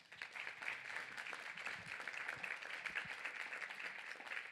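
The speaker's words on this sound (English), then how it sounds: "please give them a hand" A conference audience applauds a panel on inclusion and accessibility for people with disabilities, giving steady, moderately distant clapping that fills the room.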